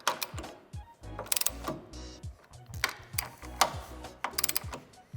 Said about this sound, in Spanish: Terminado de ajustar todos los tornillos, procedemos a darle el par de apriete.